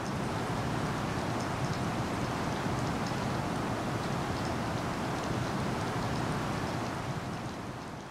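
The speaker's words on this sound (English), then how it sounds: "Here is an example of synthesized rain using those concepts along with my droplet and noise" Synthesized rain built from droplet and noise synthesis: a dense, even patter of countless drops over a steady hiss, continuous and fairly loud throughout, easing off slightly at the very end.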